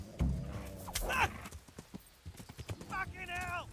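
Horse hooves clip-clop across the ground in a video game, a run of distinct close hoofbeats with a whinny, mixed with game sounds and a person talking over them.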